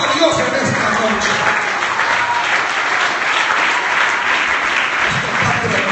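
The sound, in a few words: church congregation applauding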